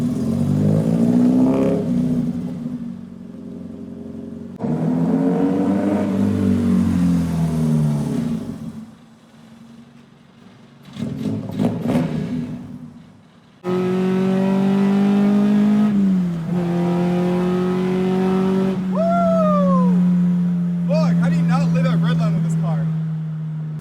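A Toyota AE86 with a BEAMS engine swap, freshly tuned, revs loudly in repeated rising and falling bursts, with pauses between pulls and voices talking around it.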